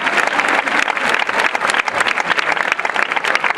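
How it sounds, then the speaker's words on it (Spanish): Spectators at an equestrian show clap loudly and steadily in a dense, continuous wash of applause that runs without a break. "Un fuerte aplauso"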